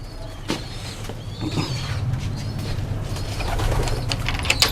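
Fancy lakka pigeons kept on a bird farm coo softly and repeatedly at close range, with scattered chirps from other birds over a low background rumble.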